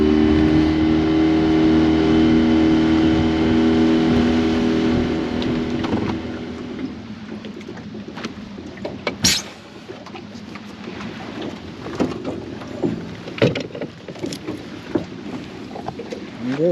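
A motorboat engine drones loud and steady on a ride across Edgar Lake, Ontario, then eases off partway through, leaving a lower hum with scattered knocks and splashes as the boat slows.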